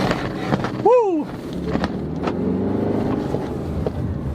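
A 2019 Subaru Forester Sport trim car accelerates, its engine rising in pitch and growing steadily for a few seconds, just after a voice lets out a short whoop.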